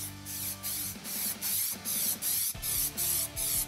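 Bursts of a spray gun applying a coat of ElastiWrap hiss loudly in rhythmic passes, about eight even sprays with brief gaps between them, close up and alone.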